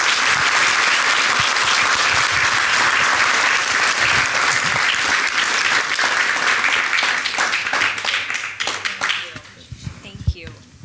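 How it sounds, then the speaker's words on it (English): Audience at an onstage conversation event breaking into loud, sustained applause that holds steady, then thins and fades toward the end, with a few voices mixed in as it dies down. "Yeah, round of applause, please."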